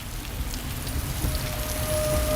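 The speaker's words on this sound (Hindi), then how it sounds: "बारिश बहुत तेज हो गई" Heavy rain pours steadily on a surface in a continuous dense wash, close and fairly loud, with a faint tonal hum running through the latter half and no voices.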